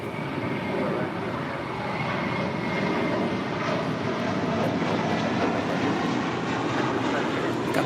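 A large airliner taxis near runway 25 at Los Angeles International Airport, its jet engines giving a steady, moderately distant roar that holds an even level throughout, with no voices over it.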